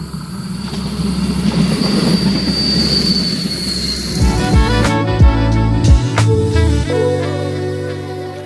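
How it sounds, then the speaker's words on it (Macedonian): A tourist train in the Algarve passes close by with a loud rumble, then its wheels squeal in shrill, sustained tones over rhythmic clanking as the carriages roll past. "Еве го воз."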